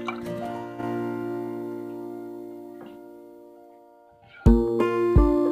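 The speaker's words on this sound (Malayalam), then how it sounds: "വെള്ളമൊഴിക്കാം." Water is poured into a pan of sugar for jalebi syrup, heard as short liquid splashes and a pouring burst near the end after quieter clinking.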